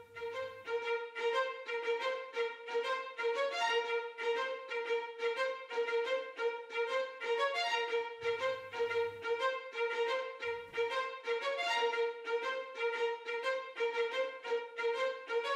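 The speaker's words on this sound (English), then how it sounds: "let's go with the main violin of the beat that goes like this." A synthesized violin plays a sustained, repeating melody from an FL Studio beat, steady and clear, with no voices.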